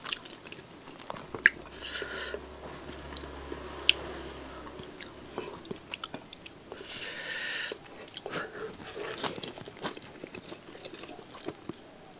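Someone eats nasi kebuli, Indonesian spiced rice, with close, moist chewing and soft crunches repeating unevenly over several seconds and a few louder bites.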